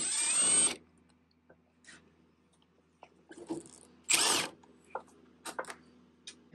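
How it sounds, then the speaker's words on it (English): A power tool spins out a 7/16 bolt from a Ford Bronco door. It gives one strong burst at the start, then shorter, sharper bursts and clicks follow nearby. There is no talking. "we're going to remove this 7/16 bolt here"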